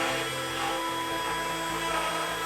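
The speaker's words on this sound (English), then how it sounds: "Occasionally I will go in with the vacuum and clean off some of that sawdust." A vacuum cleaner drones steadily and loudly, a constant whine with low motor hum throughout, no talking, cleaning sawdust off a reclaimed wood workpiece.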